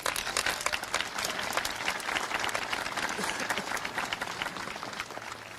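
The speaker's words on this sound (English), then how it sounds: "please give them a round of applause" A crowd applauds at a PERU graduation ceremony in 2024, a full, continuous round of clapping that holds steady for several seconds before tapering slightly, with no voices over it.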